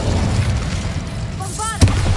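An Incendio fire spell is cast in Hogwarts Legacy: a rushing, crackling fiery burst with a sharp thump near the end, with a brief voiced sound over it.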